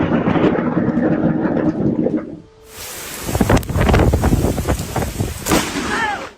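Thunder from a Florida lightning storm: a sudden loud crack breaks into a heavy, rolling rumble, with gusty wind noise throughout.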